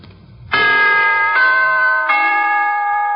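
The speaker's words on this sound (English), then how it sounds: "here is a holiday wish from the NBC Chimes" Three clear, bright NBC chime tones from a 1951 radio broadcast ring out one after another in a steady sequence, each note sustaining and overlapping as the next strikes.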